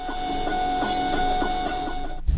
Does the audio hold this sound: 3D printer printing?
yes